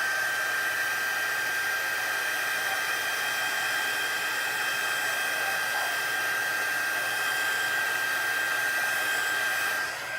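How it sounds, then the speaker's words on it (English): A craft heat tool blows hot air onto a stamped craft card, a steady loud whirring hiss with a high whine running unbroken for about ten seconds, no voices. "I'll hit that with my heat tool for a minute to flatten it out and give it a shot of heat"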